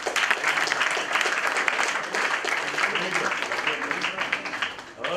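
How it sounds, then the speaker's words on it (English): Students at an induction program break into a steady round of clapping and applause that holds loud and even for about five seconds, then fades briefly near the end. "Give her a clap."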